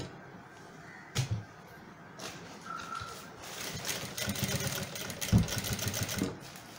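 A sewing machine stitches a shirt collar stand up close, running in short bursts and longer steady whirring runs with small clicks and handling knocks between them.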